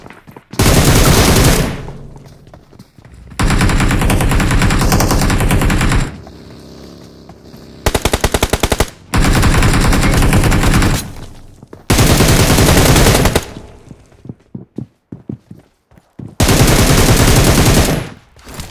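Automatic gunfire rattles in the PUBG Mobile video game. Loud, rapid bursts of machine-gun fire come in several separate volleys of one to three seconds each, with short quiet gaps between them.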